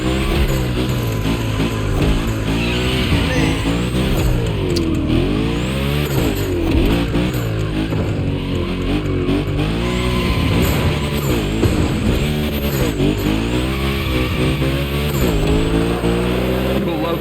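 A car in The Crew Motorfest game slides through a gymkhana drift course, its engine revving and falling in repeated sweeps with tire squeal, while a voice talks over it throughout.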